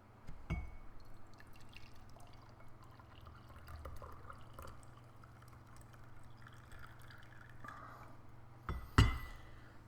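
Homemade tea poured into a glass, a soft trickle and dripping under quiet room noise, with a light clink of glass near the start and a louder knock near the end.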